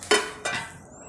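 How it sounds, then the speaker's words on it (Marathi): Green chillies drop into a stone mortar (khalbatta) already holding garlic and cumin, giving two short, close knocks and clinks a moment apart. "आता ह्या मिरच्या मी अशा खलबत्त्यात काढून घेणार आहे"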